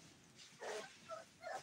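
Dogs at a kennel interact with soft, muffled woofs and whines. Three short bursts come through at a low level against faint background noise.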